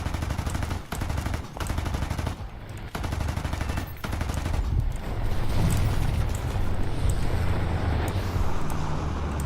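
The P-47's .50 cal machine guns fire in War Thunder: dense, sustained bursts of rapid gunfire over a steady engine drone, with a few brief pauses between volleys.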